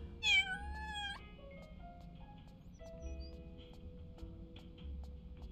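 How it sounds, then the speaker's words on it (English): A single drawn-out meow from the cat character in the cozy game Little Kitty, Big City, loud and close at the start, followed by soft background game music with scattered light tones and no speech. "Oh, I can meow, can't I?"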